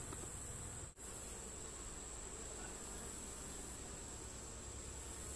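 Honey bees humming in an opened beehive, a faint, even drone with a short dip about a second in and no speech.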